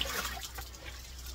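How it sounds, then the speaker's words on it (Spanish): Water pouring out of a tap or hose outdoors, a soft continuous trickling splash with faint irregular drips, quiet and close. "Miren, aquí que está echando agua."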